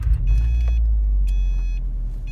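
A 2013 Subaru WRX starts up inside the cabin, the engine catching with a low rumble that settles into a steady idle, with a few electronic chimes from the dashboard and no talking.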